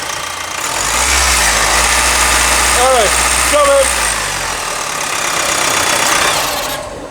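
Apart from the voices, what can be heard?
car engine revving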